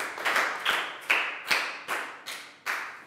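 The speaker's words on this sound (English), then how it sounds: "High five and a big round of applause for Pak Bung" A class claps together during a Year 4 science lesson in a rhythmic series of loud, roomy bursts, each ringing briefly and fading before the next, with no talk.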